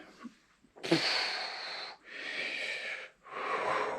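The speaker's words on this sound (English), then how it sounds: "That's me breathing when I move it." Three long, strained breaths, rasping and wheezy, from a person moving an injured knee, close and alone with short gaps between them.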